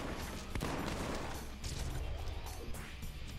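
Gunfire rattles in the video game The Bourne Conspiracy, with a sharp crack near the start followed by dense, continuous noise from sustained shooting at a moderate, steady level.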